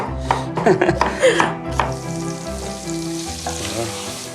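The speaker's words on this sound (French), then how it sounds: "on remue au départ, on remue au milieu, on remue jusqu'à la fin" Risotto being stirred in a pan in a palace-style kitchen, with a close sizzle and bursts of clattering spoon strokes at first, then settling into a steady simmering crackle.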